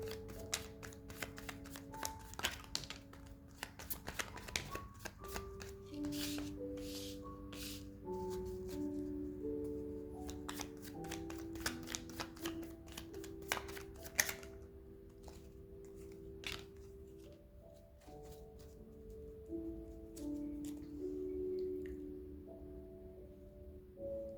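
Tarot cards shuffled by hand in a quiet room, a steady run of soft riffling and flicking clusters with scattered sharper card snaps, close and fairly faint, with no talking.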